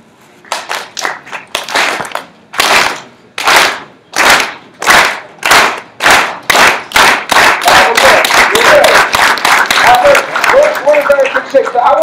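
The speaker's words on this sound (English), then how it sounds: "if we all clap together." A conference forum audience claps in unison, following a leader's lead: loud separated group claps that start slow and spaced, speed up into a rapid rhythm, then break into scattered applause with voices mixed in.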